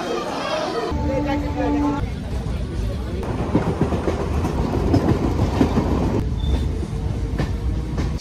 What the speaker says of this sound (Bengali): উঠে পড়লাম আমরা ট্রেনে আর জার্নি হবে প্রায় 3 ঘন্টার